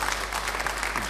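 Brief burst of steady clapping from a church congregation, a dense, even wash of hands at moderate volume over a low constant hum.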